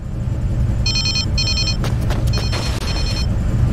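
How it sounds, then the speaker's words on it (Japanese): In Kamen Rider: Memory of Heroez, a phone rings in repeated short electronic trilling bursts over a low rumbling background, with a few thuds in between. "誰だよこんな時に電話なんて。"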